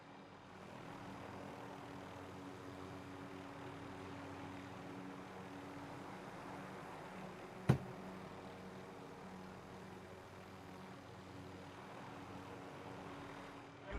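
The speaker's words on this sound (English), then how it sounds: "Now I've got a heli." A helicopter in a video game drones steadily at a distance, a low, even engine hum with one sharp click midway.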